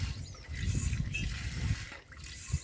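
Milk streaming into a pail while a buffalo is hand-milked: rhythmic squirting spurts at close range, fairly quiet and steady, with brief pauses between pulls.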